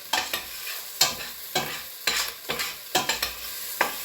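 Meat and vegetables frying in a one-pot chili, a steady low sizzle broken by repeated scraping stirs in an irregular rhythm, close and fairly quiet.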